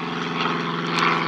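Steady rotor-driven aircraft drone passing overhead, continuous and fairly loud throughout, swelling slightly toward the end, with no voices.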